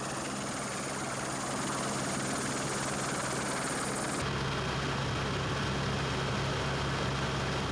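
Steady, loud helicopter rotor and engine noise drones throughout, shifting in tone partway through as the aircraft flies toward Franz Josef Glacier in New Zealand.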